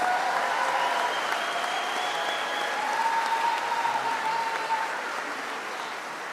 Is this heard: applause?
yes